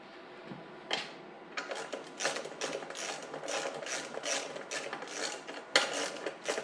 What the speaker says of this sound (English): My ratchet.